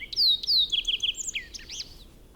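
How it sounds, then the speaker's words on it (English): Birds sing in Yosemite with a run of bright, descending chirps up close, followed by quicker, more varied calls that trail off softly against quiet surroundings. "We can hear birds singing right now."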